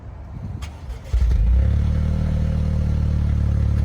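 A Toyota GR Corolla engine cranks briefly on a cold start, then catches and settles into a steady, low idle rumble, close by.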